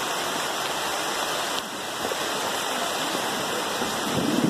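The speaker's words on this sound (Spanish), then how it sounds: "En medio de la lluvia." Steady, heavy rain pours down in a dense, continuous hiss, loud and unbroken throughout.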